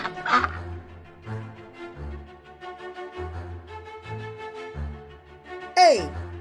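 A couple of short duck squawks cut through steady, rhythmic background music, the louder one near the end.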